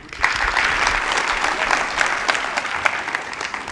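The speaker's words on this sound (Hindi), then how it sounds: "आप लोगों का आदेश होता है एक बार तालियां बजाएं।" Audience at a Haryanvi comedy poetry show bursts into loud, dense applause that holds steady for several seconds, a full crowd clapping with a few sharper claps standing out.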